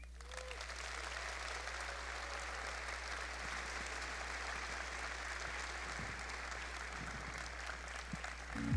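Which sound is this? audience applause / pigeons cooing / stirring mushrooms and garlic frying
audience applause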